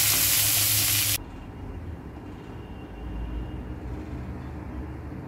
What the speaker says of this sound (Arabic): الفلفل كده اتشوح شويه